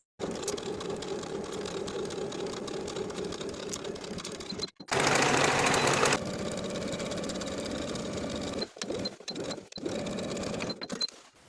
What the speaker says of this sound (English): then sewing with a 3/8 inch seam allowance